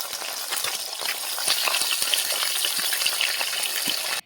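Silver carp pieces frying in hot oil give off a loud, steady sizzle with crackling pops throughout, close up, before cutting off abruptly at the end.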